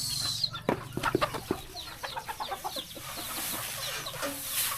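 Chickens in a rural Lao village squabble while drinking water, giving repeated sharp clucks and agitated squawks at close range against a steady outdoor background.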